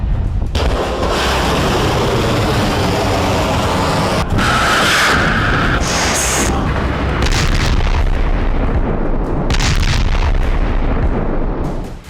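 Loud, continuous barrage of explosions and artillery fire from a Chinese military exercise, rumbling booms and bursts overlapping densely with no pauses.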